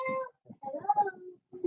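Indoor pet cat giving a couple of short meows, close and clear, with little else around.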